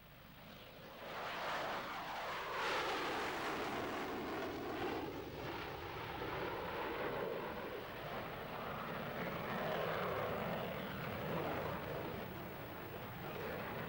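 A MiG-29 jet aircraft in flight gives a loud, continuous engine roar with a sweeping, phasing tone as it passes, steady throughout with no talk.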